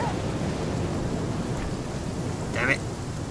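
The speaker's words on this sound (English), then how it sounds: "It's still raining?" Steady heavy rain hisses throughout as a dense wash of noise in the video game The Flame in the Flood, with a low rumble of thunder and a brief brighter swell near the end.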